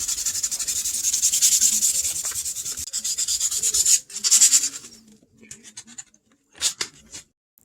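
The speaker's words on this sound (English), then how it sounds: "And I'm going to sand this so the epoxy adheres better to" Sandpaper rubbing across a walnut board ahead of an epoxy pour, a steady scratchy stroke for several seconds, then shorter bursts separated by pauses, close and fairly loud.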